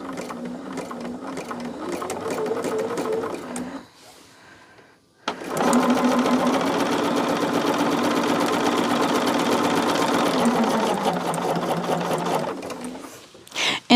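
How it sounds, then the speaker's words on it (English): A sewing machine stitches charm square quilt pieces into a row of four at a quarter-inch seam, running in a steady, close whir that stops briefly for a pause of about a second, then resumes for a long continuous run before halting. "I will sew the next two on to make me a row of four."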